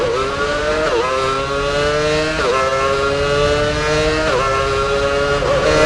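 A Formula One car's engine screams in the F1 Championship Edition racing game, holding a loud high whine that climbs steadily through the gears with sharp dips at each upshift, four shifts in quick succession.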